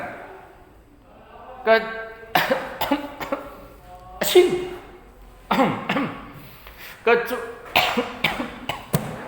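Repeated harsh coughs burst out in several fits, close and loud, separated by short pauses and breaths.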